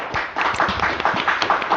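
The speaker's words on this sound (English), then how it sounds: "Lots of applause." Applause from a podcast studio audience: a short burst of many hands clapping in a fast irregular patter, fairly close and steady, with faint voices mixed underneath.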